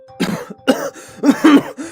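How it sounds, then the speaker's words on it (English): Several harsh, close coughs in quick succession, raspy and spluttering, with short gaps between bursts, from Spider-Man choking on fear gas in an audio drama. "the wall crawler coughs and splutters"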